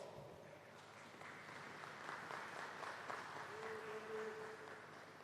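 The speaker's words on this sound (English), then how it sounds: "I wanted to give him a round of applause" Sustained audience applause fills a credit union's annual general meeting hall, a dense, steady patter of many hands clapping at moderate distance for several seconds without pause.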